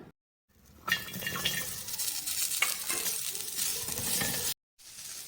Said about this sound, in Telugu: ఇప్పుడు ముల్లంగి వేసి ఫ్రై చేద్దామా?